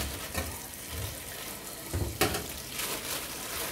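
Tap water runs steadily into a sink while sea bass is washed in lime water, a soft continuous splashing hiss with a few brief louder splashes and clatters.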